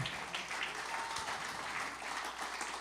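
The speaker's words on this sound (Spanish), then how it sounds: "Dale un aplauso al Señor." Church congregation applauding during a sermon, a steady wash of clapping hands that fills the space at moderate loudness for a few seconds without letting up.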